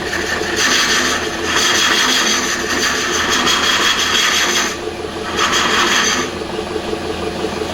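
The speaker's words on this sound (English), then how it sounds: "So like I said, lathe still running." A wood lathe runs with a tool cutting, a loud close scraping rasp that comes in bursts of several seconds over a continuous mechanical hum.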